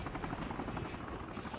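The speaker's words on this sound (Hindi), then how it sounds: "ओ भाई एक और हेलीकॉप्टर" Helicopter in the video game Call of Duty Mobile flying close overhead, a loud steady rotor drone that continues for the whole moment without a break.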